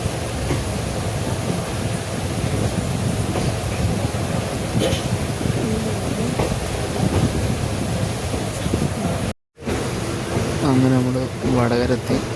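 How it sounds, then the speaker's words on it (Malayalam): A Palakkad–Kannur passenger train arrives at a station with a steady, loud rumble, broken by a brief gap, then whining tones and people talking near the end. "നമ്മളെ ട്രെയിൻ ഇപ്പോൾ വരും, പാലക്കാട് കണ്ണൂർ."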